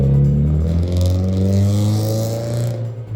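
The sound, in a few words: Scion FR-S car driving off, engine revving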